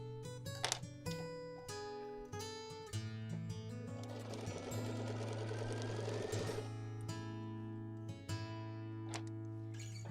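A sewing machine stitches a quilted retro car pillow in steady, close, rapid mechanical runs. It pauses briefly and restarts, with no talk over the whirring.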